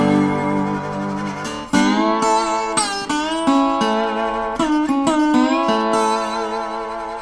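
Old unbranded acoustic guitar played lap-steel style in open D, with plucked notes and sliding pitches ringing clearly and alone after a quiet start, several struck attacks spaced across the phrase.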